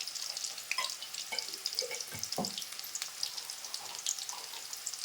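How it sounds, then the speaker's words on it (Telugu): Mustard seeds, cumin and urad dal sizzle and crackle in hot oil as a tempering, a bright, steady hiss with scattered pops, fairly quiet and with no talking. "అలాగే కొంచెం పోపు వేసేద్దాం."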